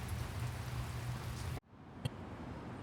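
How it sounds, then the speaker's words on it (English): Steady rain pours in a narrow alley in Porto, a dense hiss that cuts off abruptly partway through, leaving a quieter wet ambience with a single sharp knock. "I'm gonna wait here for like 10 minutes and hope that the rain stops."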